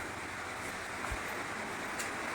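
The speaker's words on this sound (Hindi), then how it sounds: "इस समय भी बारिश हो रही है" Heavy rain pours down steadily outdoors where water has pooled everywhere after a full night of rain, a dense, loud hiss that continues without a break.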